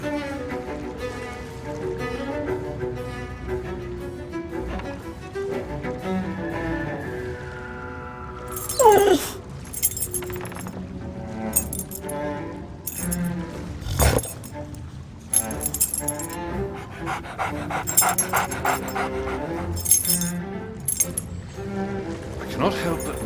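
Dog whimpers and jangling keys in the pirate video game Sea of Thieves, set in a cell, with clinks and yips over a busy game soundtrack and clear voice talk throughout.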